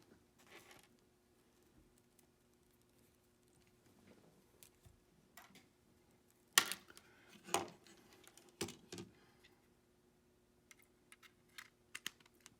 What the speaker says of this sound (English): Fully insert the microphone's plug and make sure it clicks into place.